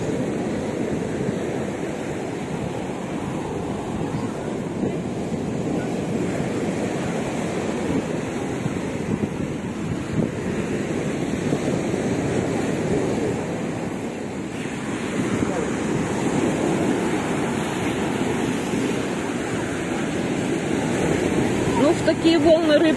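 Sea waves roll and break against the shore at Odesa in a continuous loud wash, with wind buffeting the microphone throughout.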